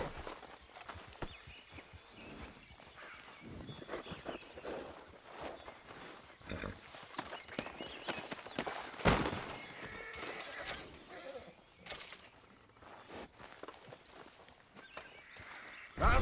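Horse hooves walking in Red Dead Redemption 2, a steady clip-clop under occasional whinnies and a voice talking to the horse, with ambient game sounds throughout.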